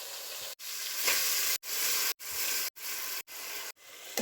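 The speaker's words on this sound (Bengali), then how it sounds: "এবার চালটা ভেজে নিব ভালো করে, মুচমুচে করে ভেজে নিব।" Rice sizzling in a pan with onion and garlic, a bright steady frying hiss broken every half second or so by sharp silent gaps, as if heard in bursts, fairly faint and with no voices.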